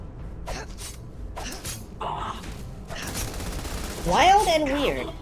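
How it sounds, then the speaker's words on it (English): Gunfire in the video game Starfield, a few sharp bursts and quick fusillades at moderate distance, spread across a few seconds and mixed with someone speaking. "They're taking fire."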